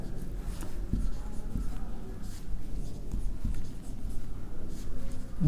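Chalk or marker writing on a board during a class 10 maths lesson, a continuous scratchy rubbing with short strokes, heard alone and fairly close.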